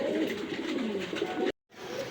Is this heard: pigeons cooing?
yes